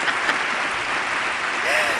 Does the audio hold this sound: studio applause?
yes